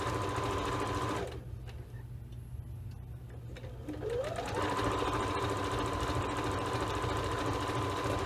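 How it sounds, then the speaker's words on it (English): A sewing machine stitches a flange pillow, its steady mechanical whir running close and loud, pausing briefly before resuming at a constant pace. "Gently hold this and start sewing a couple stitches."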